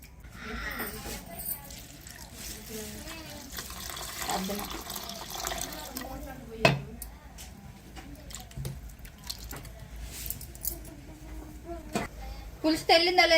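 Water is poured and splashed while dried fish is washed for a postnatal fish curry, with a steady wet rinsing and sloshing that continues throughout, occasional sharper splashes, and a person talking over it.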